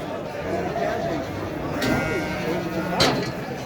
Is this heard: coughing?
no